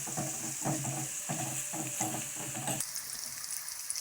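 A spoon stirs the pan for Kannada-style carrot palya just after salt and turmeric go in, making about half a dozen rhythmic scraping strokes over a gentle sizzle before the stirring stops and only a faint hiss remains.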